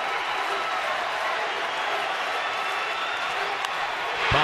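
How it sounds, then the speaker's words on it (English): Crowd noise at an evening baseball game between the Dodgers and the Diamondbacks, with a steady broad roar of a large stadium audience that swells louder in the final moment. "the crowd starts to pick up with the noise"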